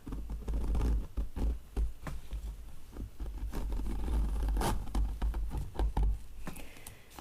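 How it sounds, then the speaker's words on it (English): Continuous scratchy zipper sound close by as a boot's back zipper is zipped up, with short rasping pulls and small clicks and rustles over several seconds. "I just zipped it up in the back"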